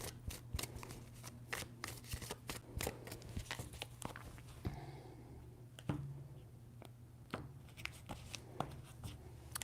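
Tarot cards shuffle in a quick run of crisp, close riffling snaps and flutters, a few separate bursts over a faint low hum, with no voice.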